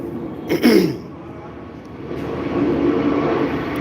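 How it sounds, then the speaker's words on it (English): An airplane flies overhead near a busy airport, a broad rumbling roar swelling in the distance, with a brief sharp noise near the start. "Y'all know that these are airplanes."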